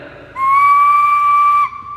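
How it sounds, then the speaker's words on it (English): A single sharp, high-pitched whistle holds a steady tone for just over a second, loud and close, then stops. "You get the high-pitched whistle."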